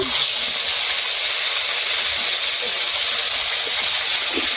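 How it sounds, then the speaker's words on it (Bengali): A paste of tomato, cashew and raisin fries in hot oil with a loud, steady sizzling hiss, close and continuous throughout. "এবার একটু তেলে কষিয়ে নেব।"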